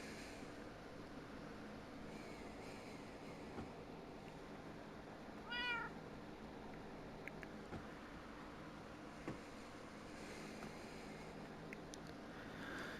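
A single short, rising cat meow sounds faintly midway through a long stretch of steady low background hum in a Minecraft VR game, with no talking.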